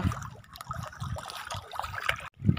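Fresh water flows steadily at Deuli Dam in Mayurbhanj, a continuous rushing, trickling wash with gurgling texture, close by and fairly loud, briefly dipping before resuming.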